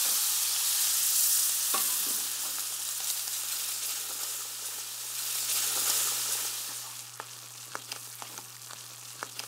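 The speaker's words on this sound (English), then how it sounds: "Now add about 1/3 of the stock and stir constantly." Stock being stirred constantly into a cooking roux for turkey gravy, a hissing sizzle that swells and eases, then gives way to scattered clicks and scrapes of the spoon against the pan.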